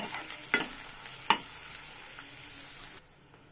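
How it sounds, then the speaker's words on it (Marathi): Onions fry in a pan until reddish: a soft, steady sizzle with two sharp utensil clinks early on, close but fairly quiet, cutting off near the end; no voices. "हा कांदा छान असा लाल होईपर्यंत भाजायचा आपल्याला"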